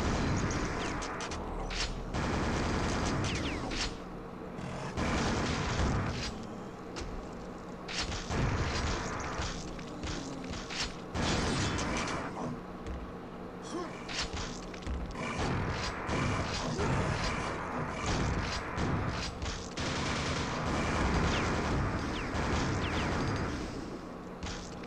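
Sustained gunfire and explosions from combat in the Quake video game, level E4M5, dense rapid bursts and booms with creaking mechanisms, loud and nearly continuous.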